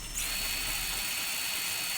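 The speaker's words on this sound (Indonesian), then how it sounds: "suara dominan atau yang lebih terdengar itu malah suara si motor brushless-nya" A brushless electric motor in an upgraded MN128 RC crawler whines steadily at high pitch, a continuous close-up buzz with no breaks.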